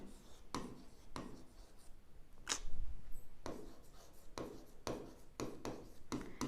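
A pen writes an entry by hand in an accounts ledger, making close, scratchy strokes in short bursts with brief gaps between words and no talking.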